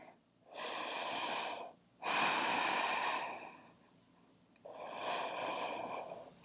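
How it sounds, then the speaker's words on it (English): Deep breathing during a yoga flow: three long, audible breaths, close and breathy, with a pause between the second and third. No talking is heard. "Few deep breaths."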